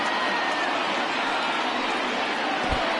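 A baseball stadium crowd of over 38,000 on its feet, a broad, constant roar of cheering and noise from a large distant mass of fans, with one brief low thump.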